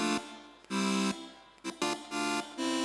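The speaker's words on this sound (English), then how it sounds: "It's just a saw with 8 voices," Detuned saw-wave synthesizer chord stacked with eight voices per oscillator and re-trigger on, played as a series of bright, buzzy sustained stabs that start and stop in an irregular rhythm, loud and dense with no voices.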